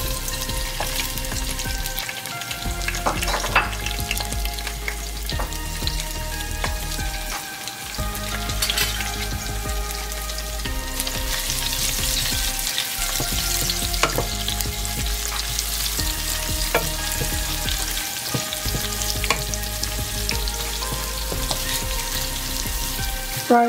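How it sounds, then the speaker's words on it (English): Garlic, ginger and herb paste fries in oil in a sticky saucepan for a Nepali-style mutton curry, giving a steady, loud sizzle with occasional stirring scrapes throughout. "Fry for 1 minute."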